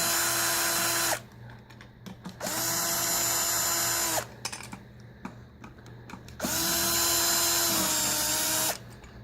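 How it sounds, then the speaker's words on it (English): A power drill removes the bolts from a Craftsman compressor, whining in three long loud bursts separated by short pauses with light clinks and handling noise between them. "Once you get it loose, you can use your drill."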